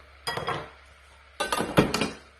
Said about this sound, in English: So we're just going to scrape it off the sides so it's all